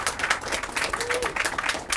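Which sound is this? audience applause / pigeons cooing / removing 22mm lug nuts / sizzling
audience applause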